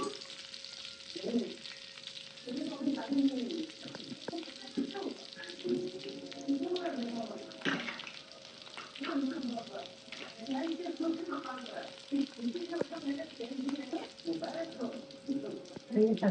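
Garlic sizzling and frying in hot oil in a pan for a spicy dried fish curry, a steady close crackle with stirring scrapes, under a voice speaking now and then.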